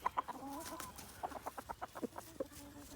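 Several light Brahma hens cluck softly and irregularly nearby, with short, quiet clucks and chirps scattered throughout a brief moment in the coop.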